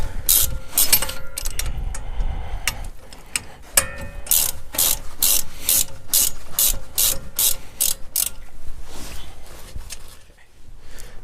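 A hand ratchet removes a Loctite-coated brake caliper bracket bolt on a 2009-2018 Ram 1500 during a front brake job, clicking in quick rapid bursts and then in a steadier run of loud close clicks.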